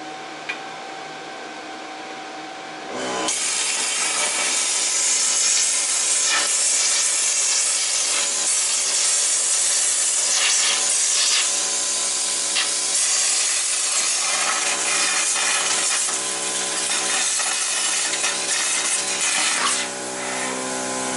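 A cutting torch burns through a clamped steel workpiece for a light-art sculpture: after a quiet start, a loud, steady roaring hiss runs continuously for the rest of the clip with small flickers in intensity.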